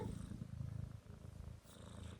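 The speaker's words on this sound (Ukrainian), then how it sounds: "Моркотить" A domestic cat purring up close, a soft continuous rumbling purr with a brief dip midway, quiet and alone with no voices.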